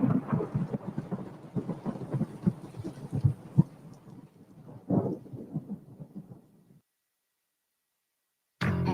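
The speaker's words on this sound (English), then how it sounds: "Because after you get struck by lightning, there's thunder." Thunder sound effect from a radio commercial for a vehicle called the Matsu Thunder: a loud, rolling rumble with crackling peaks for about six seconds, dying away into silence before a short burst of sound at the end.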